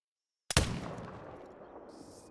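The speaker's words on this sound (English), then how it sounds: "So we might have gotten ourselves a nice 100-meter Texas heart shot." A single rifle shot fired at a Javan rusa in theHunter: Call of the Wild, a sudden sharp crack from silence followed by a long decaying echo and faint ambient noise.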